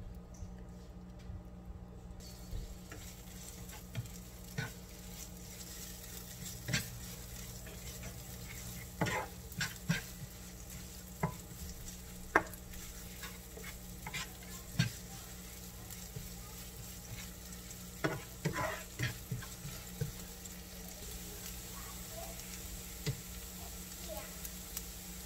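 Shallots sizzle and spit in leftover chili-frying oil at low volume, with steady crackling and occasional sharper pops while a spoon stirs; someone talks over the cooking.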